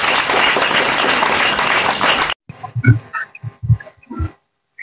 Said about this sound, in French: On va faire ovation pour dire.